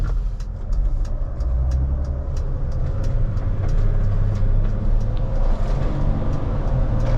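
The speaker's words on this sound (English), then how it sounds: "Once the turbo spools, you're off." A 2020 Mercedes Sprinter 2500 van's engine pulls steadily from inside the cab, a constant low rumble with road noise that builds slightly as it gets up to speed, without a distinct turbo whine standing out.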